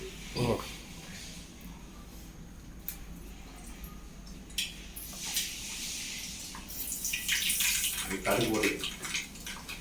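Mustard seeds and fennel tempering in hot oil for a spinach sambar. A hissing, spattering sizzle builds and grows louder toward the end, under a person's steady talk.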